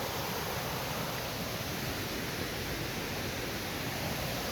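A small waterfall heard as a steady, broad rushing wash of water, continuous and fairly close, with no voices.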